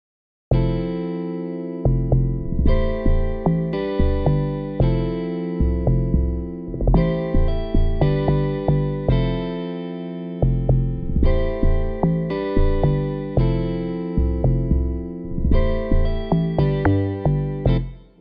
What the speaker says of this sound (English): I had to do more with the log drum to make it more bouncy and punchy